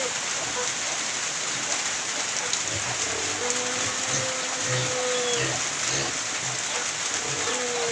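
Heavy typhoon rain pours steadily on a pig farm in Iloilo, Philippines, a dense constant hiss of falling water, with faint distant tones and soft thumps beneath it.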